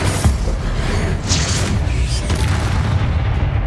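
A Bombarda spell explosion in Hogwarts Legacy during a spider fight: loud, dense booming blasts that fill the sound with a heavy rumble and sharp crackling bursts, with no quiet gaps.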